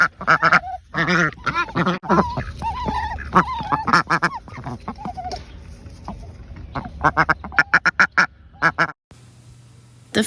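A female duck quacks in a long run of loud, deep, harsh calls close by, bunched in rapid bursts with brief pauses, with no voices over them.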